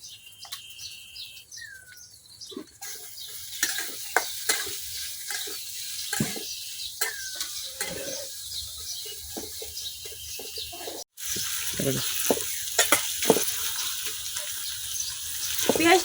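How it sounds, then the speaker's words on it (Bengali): Chopped onion drops into hot oil with a sudden broad, steady sizzle, with stirring and clinks in a village kitchen. Birds chirp in the background, and water sounds come before the frying begins. "এখন আমি তেলের মধ্যে দিয়ে পেঁয়াজ কুচি"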